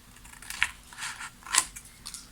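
Quiet snipping of scissors cutting the corners of paper for an album cover, a few crisp, separate cuts spaced unevenly over a couple of seconds, close by.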